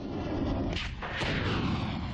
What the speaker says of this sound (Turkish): Karadeniz'e konuşlanan savaş gemilerinden seyir füzeleri fırlatıldı.